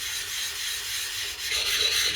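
Knife blade sharpened on a 200 grit whetstone for wide bevel work, a close, dry scraping rasp of steel on stone in steady strokes, growing slightly louder toward the end.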